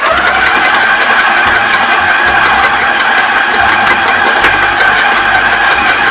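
A loud, steady mechanical motor whir drones continuously, a stand mixer kneading burger bun dough with spelt flour at speed four, with a faint rhythmic knocking underneath.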